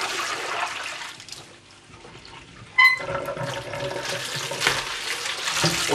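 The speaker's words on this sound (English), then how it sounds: "Throw this water away." Used rinse water from cleaning a telescope mirror is poured away into a sink, a steady splashing gush that pauses briefly near the middle before resuming with a sharp clatter and continued draining.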